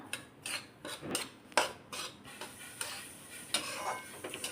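Semolina roasting in ghee in a pan gets stirred with a spoon, giving soft repeated scraping and rasping strokes at a steady rhythm, close and fairly quiet with no talk.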